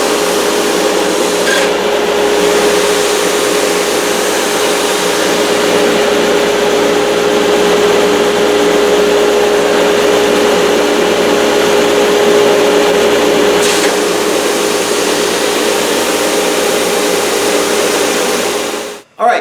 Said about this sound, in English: here is our book match top right out of the thickness sander